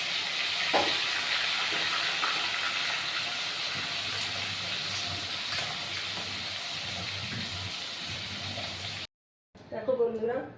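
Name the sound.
rohu fish pieces frying in oil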